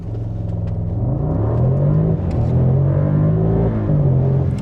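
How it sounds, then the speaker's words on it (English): Mercedes-Maybach SL680 launching hard from a standstill under launch control, its engine note a loud, continuous rising roar that climbs through gear changes with a steady rumbling drone underneath. "Let's go ahead and do a little launch control, and then Eddie can drive it."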